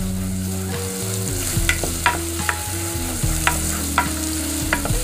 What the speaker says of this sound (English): Just gonna keep stirring this around here. Want it to cook down a little bit.